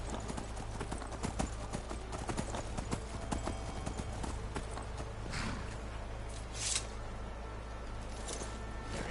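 Horse hooves clip-clopping in the video game Skyrim, a steady, close, regular beat of footfalls running the whole stretch over a low background hum, with faint brighter bursts partway through.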